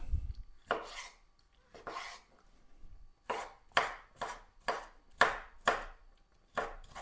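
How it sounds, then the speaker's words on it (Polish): A knife dices pickled cucumbers on a board. Crisp, close chopping strokes come in short spaced bursts, then settle into a quicker steady rhythm, with no talk. "ogórki kroję w kostkę"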